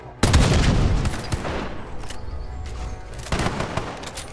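Gunfire in a post-apocalyptic ruins video game comes as a dense, loud burst of rapid shots and booms. A second burst follows a moment later, with no clear talk.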